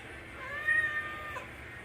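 A pet cat gives a short, fairly faint meow in a quiet room, a single drawn-out call with no other sounds.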